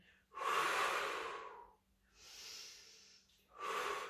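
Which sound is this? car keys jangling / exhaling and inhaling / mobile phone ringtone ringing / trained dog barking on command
exhaling and inhaling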